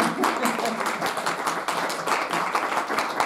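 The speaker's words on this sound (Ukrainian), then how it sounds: "Так що я хочу, щоб ми аплодували Оксані Бодак." An audience at a prayerful Gospel of Matthew reading and Q&A applauds for translator Oksana Bodak, producing a steady burst of many hands clapping together at close range for a few seconds.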